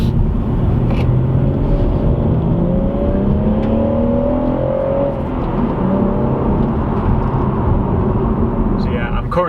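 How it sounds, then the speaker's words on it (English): A BMW M140i with a manual gearbox rolls along at low speed, its engine a steady low rumble and whir with gentle rev changes, close and continuous throughout. "it's given me the chance to see what this car is like to drive at relatively sensible and low speeds"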